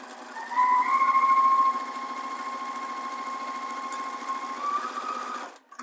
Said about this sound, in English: just figure out what 1/4 inch is on your machine and start stitching.